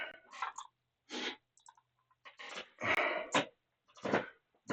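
A dog barks in a series of short, fairly close yips and whimpering barks, spaced irregularly with brief quiet gaps between them.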